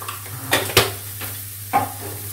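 Grated coconut with turmeric and chili powder being stirred in a pan, a few distinct scraping strokes of a spoon against the pan over a low steady hum, close and moderately loud.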